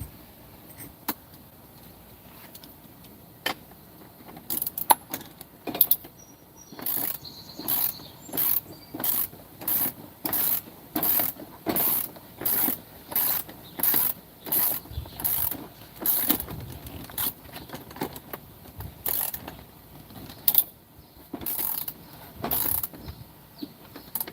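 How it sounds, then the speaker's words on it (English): Vice grips ratcheting as an axle is cranked during a trailer hitch and wiring job, a run of rhythmic metallic clicking bursts at close range with brief pauses between strokes. "And crank on the axle."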